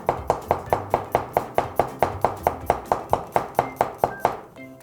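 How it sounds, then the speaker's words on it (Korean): A knife slices whole garlic cloves into thin pieces on a cutting board for Korean-style aglio e olio, about twenty quick, evenly spaced chops close up with no talking. "통마늘을 편으로 썰어주세요"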